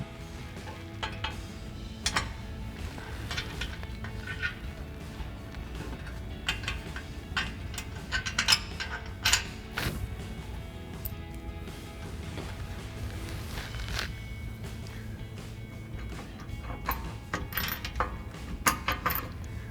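Button head bolts and flat washers being fitted to a Rugged Ridge Venator front bumper on a Jeep Gladiator JT, with scattered metallic clicks, taps and clinks of hardware over a steady low background hum.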